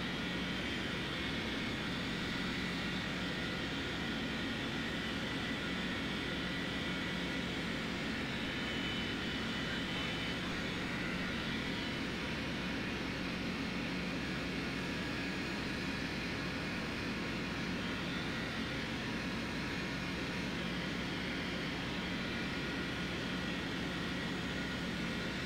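A Northwest airliner takes off from the runway with a steady broad jet roar, distant and even, unbroken for the whole stretch.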